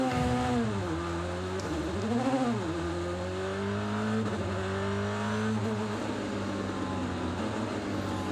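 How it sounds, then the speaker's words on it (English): Robert Kubica's number 8 BMW DTM race car circling the Nürburgring track, its engine droning loudly and steadily with rising and falling revs through gear changes, heard continuously at close range. "There's the Robert Kubica car, the number 8 BMW for Robert Kubica."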